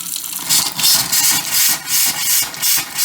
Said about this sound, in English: the last is just going to open this faucet, let the air comes through